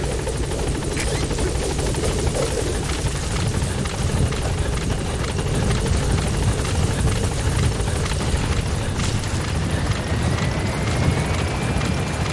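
A support helicopter arriving in a video game: the rotor chops and thrums steadily and loudly throughout, with a constant engine drone and no pause.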